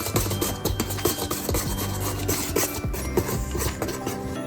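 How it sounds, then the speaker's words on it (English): A spatula scrapes around the sides of a mixing bowl of gingerbread batter, giving repeated rasping, rubbing strokes at close range with clattery, uneven rhythm and no talk. "make sure you're scraping the sides during your mixing"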